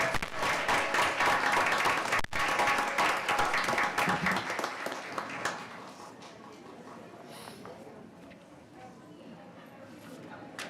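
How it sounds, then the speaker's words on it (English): Applause for campus principals at a school district board of trustees meeting, loud sustained clapping filling the first half and then tapering off into scattered claps and room murmur. "Another round of applause for our campus principals."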